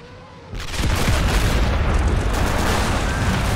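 Nebelwerfer rocket artillery fires in a video game, a sudden roaring blast after a quiet start that swells into a loud, sustained rumbling whoosh lasting several seconds.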